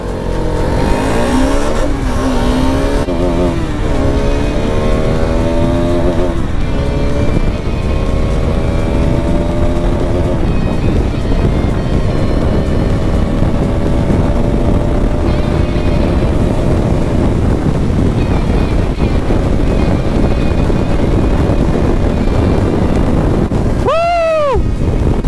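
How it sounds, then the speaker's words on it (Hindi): Bajaj Pulsar RS 200 motorcycles, BS4 and BS6 versions, drag racing side by side, engines roaring loud and continuous with rising rev sweeps and gear changes under heavy wind noise, a final high rev near the end. "तो भैया यहाँ पे 390 और ड्यू के बीच में रेस होने वाली है, BS4 RS और BS6 RS के साथ रेस होने वाली।"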